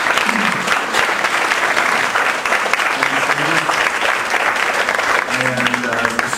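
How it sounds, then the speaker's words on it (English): A big round of applause from a live audience at a meetup event, dense continuous clapping that stays loud and even throughout, with faint crowd voices mixed underneath. "Let's give Dave a big round of applause."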